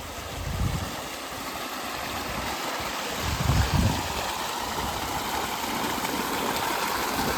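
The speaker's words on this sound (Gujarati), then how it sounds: "અહીંયા મોટર ચાલુ છે અને સરસ મજાનું પાણી આવે છે." Water gushing from a running pump motor by an old well on a farm in summer, a continuous close rushing flow with a few louder surges, no talking.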